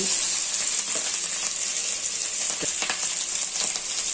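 Shredded cabbage and carrot sizzle in hot oil for egg noodles, a loud, steady frying crackle with occasional stirring scrapes throughout.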